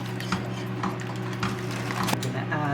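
A spoon scrapes and taps around a pot of corn chowder in a few quick, close strokes, set against a steady background hum in a home kitchen.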